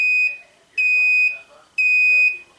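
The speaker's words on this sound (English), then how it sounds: "After you hear a series of 4 beeps" A BlueTipz receiver sounds repeated loud, clear electronic beeps, three long steady tones evenly spaced with short gaps, close up with no talking.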